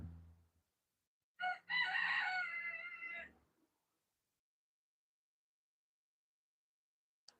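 Chickens from a backyard flock of about fifty birds give one loud burst of crowing and clucking lasting a couple of seconds, then near silence, with a faint low rumble at the start.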